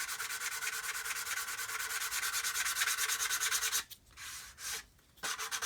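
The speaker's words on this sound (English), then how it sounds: "sand away, making sure we don't damage anything under the tape, and just basically thin out this edge" A hard sanding stick is rubbed back and forth along a plastic model kit edge in quick, even close-up strokes, with two brief pauses near the end before the rasping resumes.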